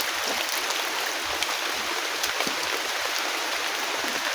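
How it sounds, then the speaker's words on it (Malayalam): Heavy rain falls outdoors near a small jackfruit tree, producing a dense, even hiss of drops that continues unbroken, with no talking. "നല്ല മഴയാണ്"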